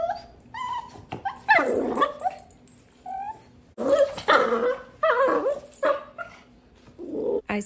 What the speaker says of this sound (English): Leo makes these very strange sounds when Louie is eating his breakfast after he has completely inhaled his